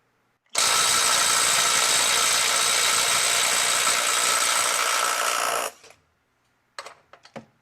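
A Makita 18V brushless right-angle impact wrench runs at its highest power setting while tightening to 300 foot-pounds, giving one loud, steady burst of about five seconds that cuts off sharply, followed by a few brief clanks.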